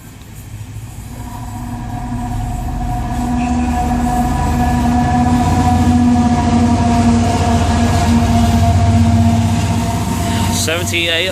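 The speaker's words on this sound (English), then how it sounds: "A nice bit of clack there." Train rolling through Bristol Parkway station on the Great Western main line, a loud rumbling build with droning engine tones and steady wheel noise, ending in sharp metallic squeals.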